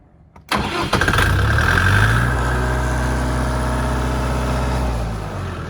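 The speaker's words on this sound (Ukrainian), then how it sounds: "Як же м'яко, як же красиво працює двигун" A Dongfeng 404 mini tractor engine cranks and catches after a brief pause, then settles into a steady, even idle close by with a low, continuous rumble.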